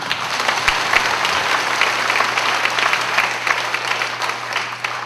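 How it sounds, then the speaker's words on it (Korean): A gathering of ministers at an evening worship session gives loud, steady applause, a dense wash of clapping from a large room under a low constant hum. "이 시간 우리 하나님께 박수를 돌리겠습니다"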